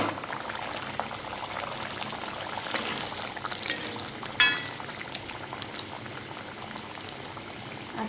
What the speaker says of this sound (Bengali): এবার আমি এগুলো গরম তেলে ভেজে নেব।